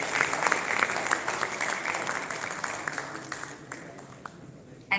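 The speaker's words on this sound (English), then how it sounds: "a big round of applause, please." Audience applause at a corporate awards ceremony, a broad wash of many hands clapping that starts strong and gradually tapers off toward the end.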